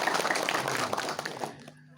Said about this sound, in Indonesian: Tepuk tangan bareng